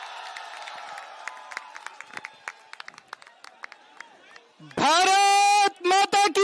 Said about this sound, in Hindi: जोरदार तालियां हो जाए सर के लिए